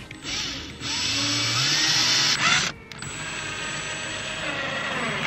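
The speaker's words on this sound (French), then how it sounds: "c'est cette mèche que je vais utiliser pour percer mon jerrycan" A power drill with an 8 mm bit bores a hole in a plastic jerrycan being fitted as a fuel tank for a Chinese Vevor diesel heater. The whine is loud and close, continuous apart from one brief pause.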